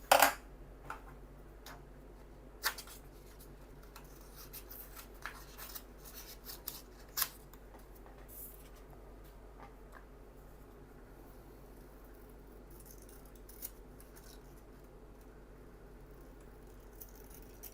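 Scissors snipping out origami paper, with faint, sparse clicks and crisp cuts spaced irregularly over a quiet steady hum, no talking.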